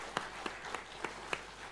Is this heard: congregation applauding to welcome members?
yes